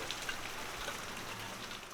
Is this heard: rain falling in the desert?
yes